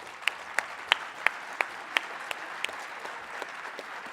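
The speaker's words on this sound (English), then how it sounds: "Let's give them a round of applause." Sparse, scattered clapping from a small audience at a conference panel, with individual sharp claps standing out at an uneven pace before fading.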